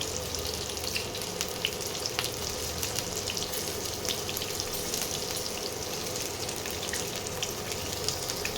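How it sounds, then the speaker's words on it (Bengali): Flat beans stuffed with a shrimp filling fry gently in a pan, giving a soft, even sizzle and faint crackle that stays low and continuous with no talking. "আস্তে আস্তে এভাবে ভেজে নিতে হবে, প্রতিটা শিমকে অল্প অল্প করে ভেজে নিতে হবে।"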